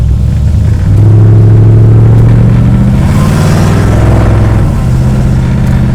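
Loud, close rumble of a 1973 Dodge Dart Swinger engine through cherry bomb mufflers, a steady blatty drone that swells and revs throughout the whole stretch.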